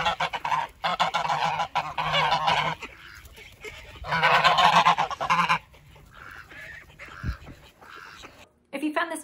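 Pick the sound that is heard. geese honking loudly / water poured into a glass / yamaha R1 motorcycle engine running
geese honking loudly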